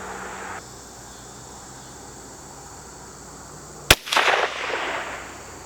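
Rifle shot fired at night with an Oneleaf Commander NV100 night vision scope, a single sharp loud crack after a quiet stretch of faint insect chirping, followed by a short echoing tail.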